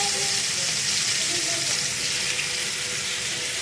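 Tandoori chicken fries on a gas stove with a dense, loud, continuous sizzle and crackle of hot oil, steady throughout with no speech over it.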